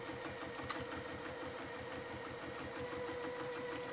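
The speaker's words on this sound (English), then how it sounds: "you're going to want to back stitch on this as well" A sewing machine back stitches a dress seam, running forward and backward over a few stitches with a steady, fast mechanical whirr and rattle throughout, close and even.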